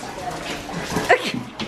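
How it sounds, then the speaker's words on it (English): Excited dogs whimper and let out short high yips during a happy reunion at home, brief and close amid household noise. "Happy puppies!"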